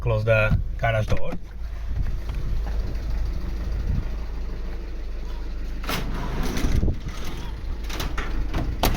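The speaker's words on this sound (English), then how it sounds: "Just will close the garage door." A low mechanical rumble of a garage door closing runs steadily for several seconds, after a brief voice at the start.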